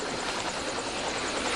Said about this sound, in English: Oh, it sounds like a helicopter.